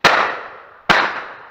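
Two loud, close shotgun blasts during outdoor pigeon shooting in the Hertfordshire countryside, under a second apart, each a sharp crack followed by a rolling decay.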